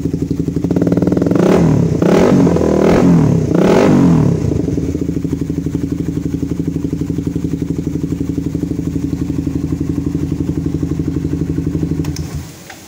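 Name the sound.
motorcycle aftermarket exhaust revving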